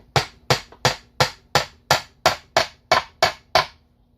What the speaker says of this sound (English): you can take your hammer,